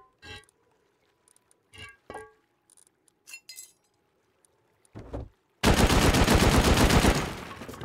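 Gunfire in the game Rust shooting out a tool cupboard: scattered single shots and clinks, then a loud sustained burst of rapid automatic fire that tails off, with no talk.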